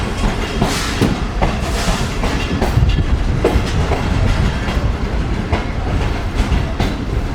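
The Hazara Express rolls into Bahawalpur station, a loud steady rumble of wheels on rails with rhythmic clickety-clack joints and occasional sharp metallic knocks, continuous throughout without pause.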